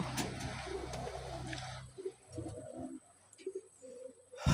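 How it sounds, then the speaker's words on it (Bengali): Rooftop pigeons coo nearby, a dense rolling burble at first that thins into scattered, softer calls with quiet gaps between them. "সত্যি কবুতর একটি অনেক নিরীহ প্রাণী এবং উপকারী প্রাণী"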